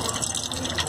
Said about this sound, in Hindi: अब इसमें डालेंगे होममेड घी